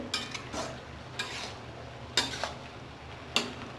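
Ginger-cumin paste being stirred into cabbage curry cooked with pulao rice in a pan: soft scraping strokes with a few sharp utensil knocks against the metal over a faint sizzle, close by.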